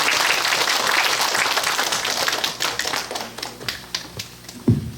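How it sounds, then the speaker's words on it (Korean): An audience at a Busan biodiversity survey gathering on Geumjeongsan applauds together, dense steady clapping that thins out into scattered individual claps and stops near the end. "다 같이 한번 박수를 쳤으면 좋겠습니다"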